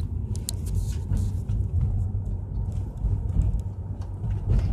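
Road noise inside a moving car, a steady low rumble of tyres and engine that holds evenly throughout, without any voices.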